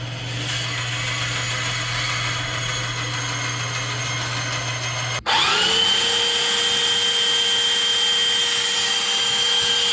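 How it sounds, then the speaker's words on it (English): A power tool, likely a rotary tool or drill, cutting out a pickguard for a 1967 Teisco Audition Zenon guitar, a steady close whine that jumps in pitch and loudness halfway through and runs on without talk. "I am now going to cut out the pickguard."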